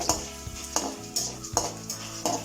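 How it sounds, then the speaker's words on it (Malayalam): Mustard seeds, dried chili, urad dal, toor dal, onion, garlic and curry leaves frying in hot oil in a pan, with soft sizzling and several sharp stirring clatters of a spoon against the pan. "ഉള്ളി വെളുത്തുള്ളി കറിവേപ്പില അതെല്ലാം ഇട്ട് കൊടുക്കാം കടുകിട്ടു ഉണക്കമുളക് ഉഴുന്ന പരിപ്പ് സാമ്പാർ പരിപ്പ് എല്ലാം ചേർന്ന് നന്നായിട്ട് മൂപ്പിച്ചെടുക്കാം"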